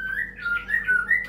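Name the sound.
bird calling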